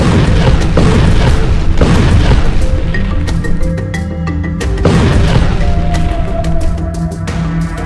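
Explosions from airstrikes on Gaza, including a naval strike on a missile pad in Khan Younis, come as a series of heavy, loud booms and deep rumbling blasts, with repeated impacts and lingering low roar.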